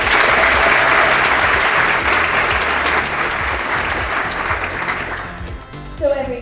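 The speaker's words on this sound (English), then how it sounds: "So huge round of applause for them." An office kickoff audience breaks into sustained, loud applause, the clapping dense and even before thinning and trailing off near the end.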